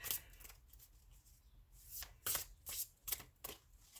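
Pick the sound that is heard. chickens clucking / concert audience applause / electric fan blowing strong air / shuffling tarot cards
shuffling tarot cards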